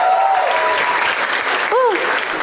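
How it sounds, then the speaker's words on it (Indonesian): Applause from a stand-up comedy audience, broad and steady clapping with a faint whistle-like tone near the start and a brief rising voice-like call toward the end. "tepuk tangan untuk kalian"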